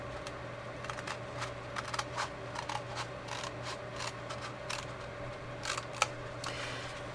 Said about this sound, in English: So I'm going to cut along this pencil line